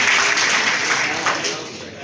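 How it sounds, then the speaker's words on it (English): Dense applause from a crowd at a college graduation ceremony, loud and continuous, fading slightly toward the end. "Please, a round of applause for him."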